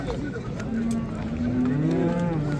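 A cow moos at a weekly livestock market in Settat, Morocco, one long drawn-out low call with a wavering pitch over steady background crowd noise.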